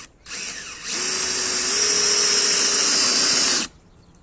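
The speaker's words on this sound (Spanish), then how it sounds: "lo tengo en velocidad 1, está en taladro" A DeWalt DCD777 20V cordless drill on speed setting 1 with a high-speed bit bores into a piece of oak, a steady whining motor hum with grinding bite lasting about three seconds, close and loud, then stopping abruptly.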